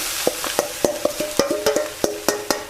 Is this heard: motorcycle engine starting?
no